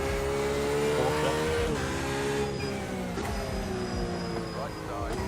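A Porsche race car engine drones steadily while driving on track, a loud continuous hum with shifting harmonic pitch as revs rise and dip, with a voice talking over it.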